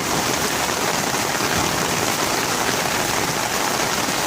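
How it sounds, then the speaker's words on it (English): Steady rain pours down onto a home-built rainwater catchment system with barrels, a loud, continuous hiss of drops with no pauses and no voices. "we get a good steady rain, I get a cool little fountain"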